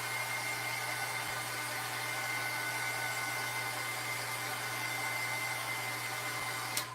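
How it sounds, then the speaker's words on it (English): A heat gun blows steadily and loudly with a constant whooshing hum, used to dry distress crayon artwork, ending with a small click. "I'm going to turn my heat gun on real quick."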